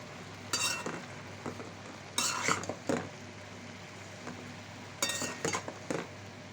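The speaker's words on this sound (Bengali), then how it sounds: "শাকটা আমি আরেকবার নেড়ে দিচ্ছি।" A spatula scrapes and clinks against a pan while hyncha greens fry with onion and chilies, several sharp stirring strokes over a soft continuous sizzle, close by.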